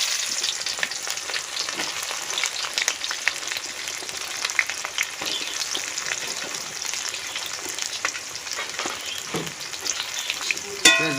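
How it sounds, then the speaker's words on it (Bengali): Chopped onions and cumin seeds frying in a pan for chicken curry, a continuous crackling sizzle like light rain, with occasional faint stirring taps, steady and unbroken with no voices. "এরপর আমরা কাঁচা জিরা দিলাম, পেঁয়াজ কুচি দিলাম"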